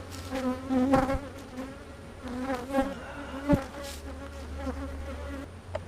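Honeybees hover right beside a beekeeper's ear near the hive, making a close, steady, droning buzz with wavering pitch that rises and falls as the insects circle.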